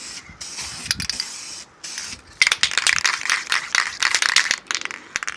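Close-up rattling and hissing bursts as a spray can of polyurethane is shaken and sprayed in quick, uneven strokes onto a bathroom vanity drawer.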